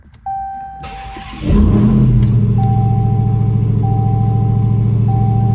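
A warning chime sounds, then a 2016 Dodge Challenger SRT Hellcat engine cranks and catches, settling into a steady loud idle while the chime keeps beeping at intervals.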